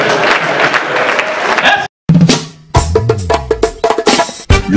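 Audience at a stand-up comedy show applauds for the women: a loud, dense burst of clapping lasts about two seconds, then cuts off abruptly and gives way to music.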